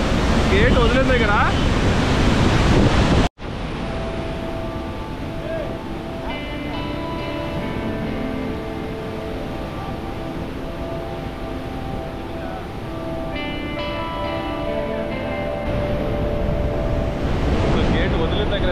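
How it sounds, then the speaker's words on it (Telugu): Heavy flow of water released through an open gate of the Somasila Dam in Andhra Pradesh, a steady loud rushing roar running throughout, briefly cut once near the start, with no voices. "ఫ్లో చూడండి ఎలా ఉందో కింద. ఎక్కువ ఫ్లో అయితే ఉంది."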